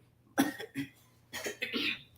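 A person with a lingering illness coughs at close range: two short harsh bursts, then a longer rasping pair of coughs trailing into a hoarse exhale, with no other sounds around them.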